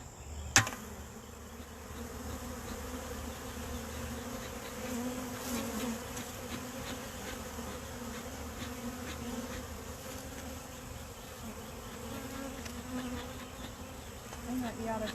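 Honey bees buzz around a hive stand in a steady, close, droning hum that continues throughout, with a sharp tap near the start.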